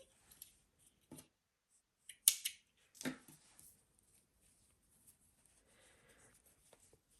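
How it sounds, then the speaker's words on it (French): Scissors snip loose crochet yarn ends on a finished square, a few faint close crisp cuts and clicks separated by quiet pauses. "Il ne me reste plus qu'à couper les fils."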